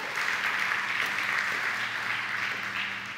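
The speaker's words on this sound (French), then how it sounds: "applaudis le Seigneur" A church congregation applauds the Lord with a steady, dense wash of clapping. It is fairly loud and sustained for a few seconds, with a low hum underneath.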